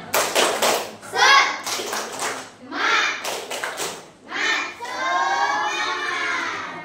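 Classroom of young children clapping a rhythmic 'tepuk semangat' chant in unison, quick bursts of claps alternating with loud chanted voices, ending in a sustained group shout.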